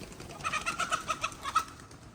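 Hens around a coop give a run of soft, fairly faint clucks and short calls in a loose rhythm, several small bursts one after another with no voices over them.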